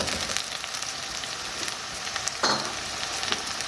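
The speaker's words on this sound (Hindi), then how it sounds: "कीमे का कलर चेंज होने तक मैं इसे फ्राई कर लूँगी।" Minced meat, 300 grams of keema, frying in a pan over fried onions, a steady soft crackling sizzle with a brief louder hiss partway through.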